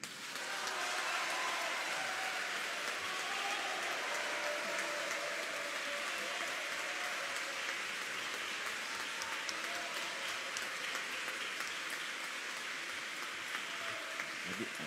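Sustained audience applause fills the room at an event on abortion, dense and steady throughout with a faint voice underneath.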